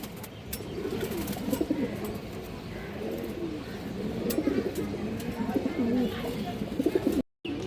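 Pigeons coo in soft, low, overlapping calls at a crowded pigeon market, a steady warble with faint chatter and bustle in the background.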